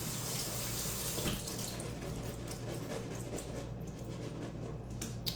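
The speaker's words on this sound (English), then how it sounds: "I'm just going to drain my beans and rinse them." Canned black beans are drained and rinsed under a running tap, a faint, steady stream of water splashing continuously with a few small knocks.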